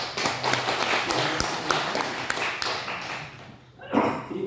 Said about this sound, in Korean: 우리 모두에게 한번 박수 한번.